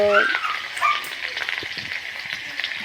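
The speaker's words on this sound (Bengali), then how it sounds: "এবার আমি আলুগুলোকে ভেজে নেব" Potatoes frying in a small amount of oil in a karahi produce a steady close sizzle with light stirring clicks, with a brief high tonal sound at the very start.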